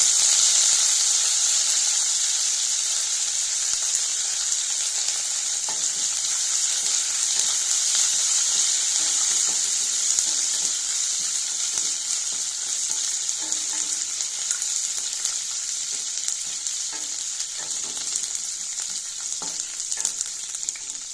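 A handful of curry leaves sizzles in hot oil, a loud, close, continuous frying hiss with small crackles throughout.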